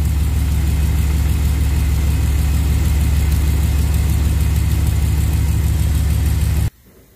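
A 2001 Dodge Ram engine, fitted with new VRP plates and a Hughes reseal kit, idles in gear at a steady low rumble, loud and close, holding an even tone before cutting off near the end.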